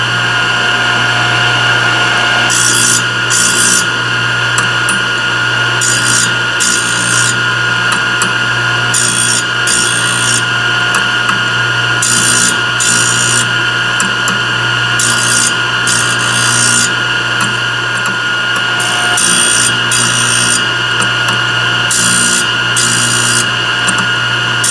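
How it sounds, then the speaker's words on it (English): A triple chip saw blade's teeth are ground on a Thorvie AV-40 sharpener under light pressure. A constant motor whine runs throughout, broken by repeated short rasping grinding bursts at a steady rhythm, close and loud. "I'm just going to get very light pressure because you only want a nice small grind"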